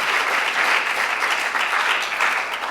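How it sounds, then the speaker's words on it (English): A room full of people applauds Dr. Fred Ledley, dense and even clapping that stays loud and sustained from start to finish with no talking. "A round of applause for my friend,"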